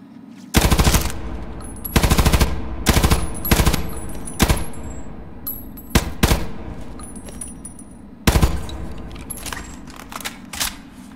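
Automatic rifle fire in the online shooter Hired Ops: several loud, rapid bursts of gunshots with short pauses between them, plus a couple of single shots, crisp and close with mechanical clinks, no speech.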